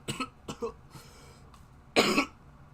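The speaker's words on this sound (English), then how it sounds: "I do not like coughing" A person sick with illness coughing several times in short, harsh bursts, close and alone, with a louder cough near the end.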